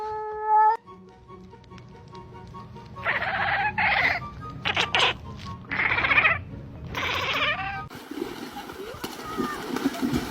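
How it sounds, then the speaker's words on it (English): Cats fight in the early morning with drawn-out yowls and growling cries rising and falling in several bursts. Background noise grows louder toward the end, and a person speaks faintly at the start. "these cats are beefing at 7 a.m."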